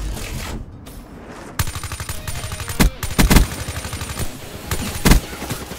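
Marshal guns fired in Black Ops 3 gameplay, a run of sharp, loud close shots in irregular bursts, with several heavier booming blasts standing out.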